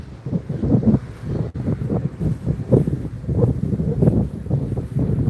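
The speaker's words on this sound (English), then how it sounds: "the wind started blowing when I came out" Steady wind buffets the microphone outdoors in low, rumbling gusts that rise and fall continuously for several seconds, with no voices heard.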